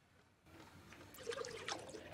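A trickling liquid effect in Among Us, a short thin dribble of water that starts abruptly and runs on, fairly faint and without speech.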